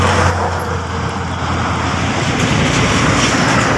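A car drives along a road, its steady engine and tyre rumble heard from inside, with a constant low hum and broad road noise throughout.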